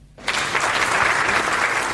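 Audience applause at a Hindi comic poetry recital, a kavi sammelan, bursts in suddenly after a brief quiet and continues as loud, dense clapping from a large crowd.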